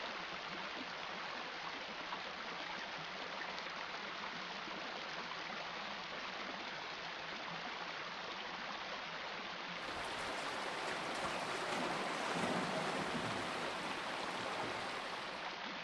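A mountain river flows in a steady, soft wash of rushing water, constant and unbroken, heard alone at a low level with no voices.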